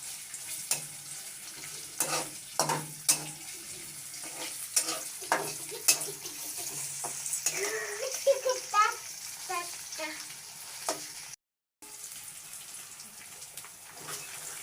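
Onions fry in oil in a pan for a beet and cabbage dish, with a soft sizzle and scattered stirring clatters, a brief silent gap near the end, and light background noise.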